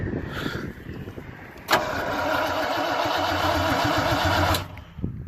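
Small-block Chevy V8 in a BMW E36 drift car catches on its first start with a sudden burst, then holds a loud, steady high idle for about three seconds before cutting off, with brief voices before and after.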